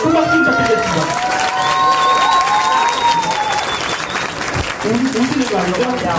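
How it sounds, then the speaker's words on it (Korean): Audience at a party event applauding with scattered cheers, a broad crowd roar with a host's voice and music tones threaded through it, fairly loud throughout. "여러분들 큰 박수 부탁드리겠습니다."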